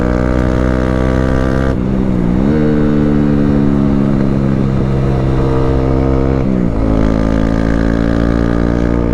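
A motorcycle engine with an LV GP One exhaust idles with a deep, throaty rumble, rising in two revs that settle back, loud and close.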